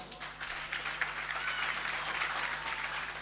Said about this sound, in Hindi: तो अपने सम्मान में तालियां बजा लो।